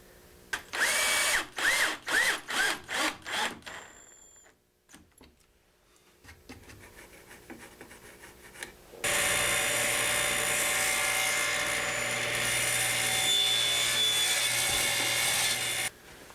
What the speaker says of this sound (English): We'll end up squeezing 2 screws in the top of this.